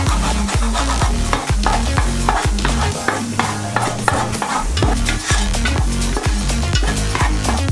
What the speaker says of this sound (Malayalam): ആദ്യം മുട്ട ചിക്കി വറുത്ത് മാറ്റണം.